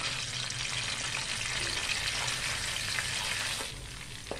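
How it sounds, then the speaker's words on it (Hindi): Ginger garlic paste and cumin seeds fry in half a cup of hot oil with bay leaves in a kadai, a steady, loud sizzle that eases slightly near the end, with a faint stir or tap. "1 से 2 मिनट तक इसको फ्राई करेंगे।"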